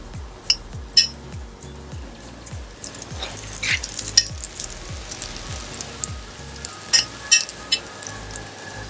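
Eggplant fritters fry in olive oil, cooked outdoors in a garden: a soft, steady sizzle runs throughout, broken by scraping stirs, light metallic clinks of utensils against the pan, and occasional sharp pops.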